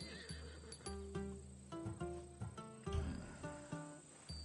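Horse whinnies in Assassin's Creed Odyssey, a sturdy Skiros breed bred for clinging to mountain passes, giving several short tonal neighs and snorts in a steady run, fairly close and clear with no talk over them.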